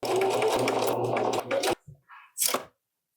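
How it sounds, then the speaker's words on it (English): Sewing machine running steadily for nearly two seconds while stitching a 1/4 inch seam on fabric for pants, then stopping, followed by a few faint handling clicks and a short soft rustle. "I'm just going to sew this"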